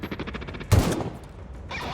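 Gunfire in The Outer Worlds: a rapid string of shots, then one loud close blast and a burst of crackling noise.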